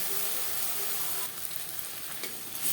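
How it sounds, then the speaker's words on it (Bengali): Onion, tomato and spice masala stir-fries in a pan for a fish curry, giving a steady close sizzle with soft scrapes of stirring throughout. "কাঁচা গন্ধ যাওয়া পর্যন্ত নাড়াচাড়া করে দেবো।"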